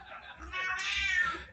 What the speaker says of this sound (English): It sounds like your cat agrees as well.